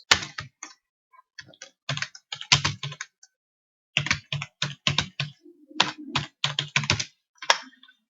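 Bursts of computer keyboard typing, close and crisp, in quick runs of keystrokes separated by short silences, with no voice present.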